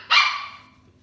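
A puppy gives a single sharp, close bark that rings out and fades within about a second.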